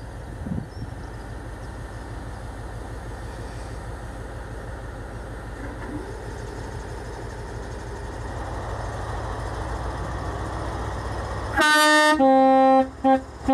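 LNER HST train pulling out of Northallerton station, a low diesel rumble building over several seconds, then loud two-tone horn blasts near the end.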